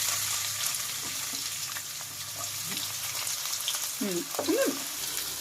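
Onions and green chillies fry in hot oil for a paneer green peas curry, giving a steady close sizzle throughout, with a brief voice rising faintly over it near the end.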